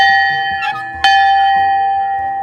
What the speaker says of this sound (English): the bell came from a train that carried ore in one of Arizona's copper mines